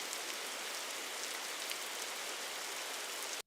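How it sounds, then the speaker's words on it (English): Rain ambience: a steady, even hiss of rain falling on surfaces, constant and soft with no voices, ending abruptly. "Rain."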